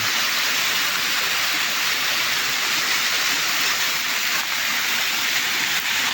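A waterfall at a water source roars as a steady, dense rush of falling water, close and loud, unbroken for the whole stretch with no talking.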